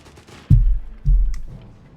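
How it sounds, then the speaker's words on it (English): Two heavy gunfire reports go off about half a second apart in Company of Heroes 3, each a sharp, booming hit with a short decaying tail. "Routed, and the other machine gun is also pushed back here as Boom and the British Army swing forwards"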